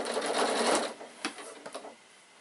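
A sewing machine back tacks the start of a seam on an insulated picnic bag, a close whirring burst of stitching followed by a few short stop-start runs before falling quiet.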